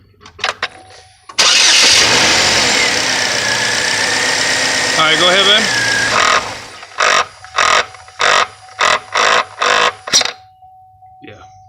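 A 2008 Saturn Vue's engine roars to life loudly up close, runs briefly, then on shutdown gives a series of rhythmic grinding pulses, about eight in a row, before stopping; someone speaks briefly at the start.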